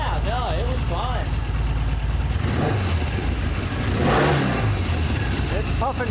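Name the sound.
Norton motorcycle engine running after kick start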